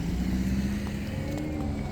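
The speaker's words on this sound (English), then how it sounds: "Okay, we got a car coming out." A car drives past on a road, its engine a steady low drone with a faint rising tone, close and continuous with no talking.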